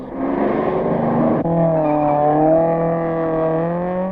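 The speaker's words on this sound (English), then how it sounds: "The Ford, car number 5, driven by Barter and Hutchings, gets away to make room for the impressive-looking Porsche of Chenevrier and Schultz." The number 5 Ford rally car pulls away at the 1971 Rally de Portugal, its engine note climbing through a gear change into a strong, rising drone, loud and close, with no voices.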